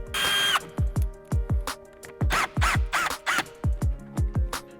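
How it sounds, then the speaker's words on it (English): A power driver backing out T15 screws while removing a 717 Aero rear wing, a series of short, even whirring bursts with a faint ratcheting edge, close and loud, separated by brief pauses. "With that front cover removed, you gain access to these two T15 screws."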